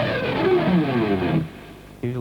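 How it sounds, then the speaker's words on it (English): Electric guitar with distortion plays a pick slide, a scraping, descending noisy sweep lasting over a second, then a brief sustained note. "You have to do a pick slide correctly, and it comes out like this."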